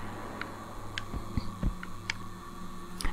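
A low, throbbing heartbeat effect from the video game Claire pulses irregularly over a steady hum, with faint higher ticks scattered above, quiet and eerie.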